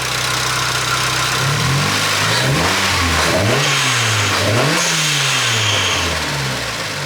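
A turbocharged Mazda Miata NB engine runs loud and close after a turbo install, holding a steady idle and then rising and falling through several revs before settling back, alone without talk.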